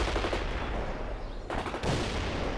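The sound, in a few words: gunfire and machine guns in video game World in Conflict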